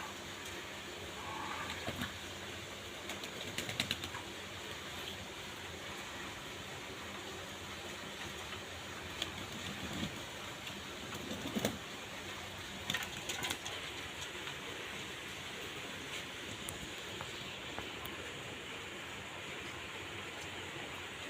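A female pigeon coos softly in a loft, with low murmuring calls over a steady hiss of background noise and occasional faint flutters.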